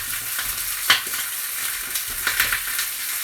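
Onions and lardons frying for coq au vin, a loud close crackling sizzle in the pan with a few sharp stirring scrapes and clatters over about three seconds, no talking.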